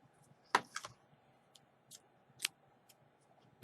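A few quiet, crisp snips as scissors cut through crochet yarn, one sharper clip near the start, then scattered lighter ticks and a final snap, close and alone.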